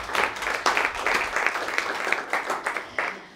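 At a Berlin gallery presentation of paintings, a small audience gives brief, moderately loud applause, individual claps sharp and distinct in an uneven patter.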